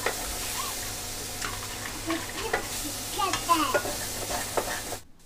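Drumsticks (sajne data) and potato pieces cooking in water in a pan over a high gas flame, giving a steady bubbling, sizzling hiss with occasional stirring clinks, close up and without speech.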